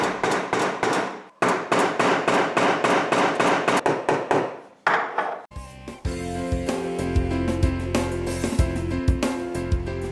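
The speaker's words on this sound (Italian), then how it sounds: "vi consiglio di dare qualche colpo di martello sul cacciavite come sto facendo io" A hammer taps on a screwdriver to loosen a rusted screw on a gas hob, a fast, steady run of sharp metallic knocks close up, then a pause before a dense, ringing clatter takes over.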